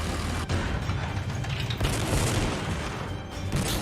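Heavy bolter fire in the Warhammer 40,000: Sanctus Reach strategy game, a dense, continuous roar of booming bursts and rattling shots with no breaks, loud and close throughout.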